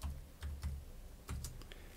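Computer keyboard typing while entering settings for an OpenVPN-AS setup on OpenMediaVault: a few quick clusters of key clicks with short pauses between, close and fairly quiet, with no talking.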